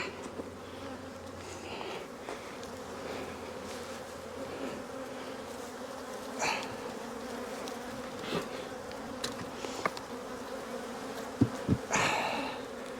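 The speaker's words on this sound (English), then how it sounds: "We've got bees throughout this hive." Dense, steady buzzing of many honeybees close by in an open hive, with occasional louder passes and clicks as individual bees move near.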